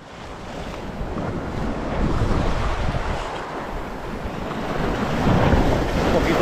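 Steady wind gusts buffet the microphone at a Caribbean seashore during shore fishing, with surf washing continuously beneath, swelling louder toward the end; no one speaks.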